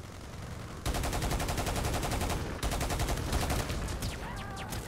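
Sustained rapid machine-gun fire in Battlefield Play4Free rattles loudly in continuous bursts with a brief break midway, ending with a few metallic pings.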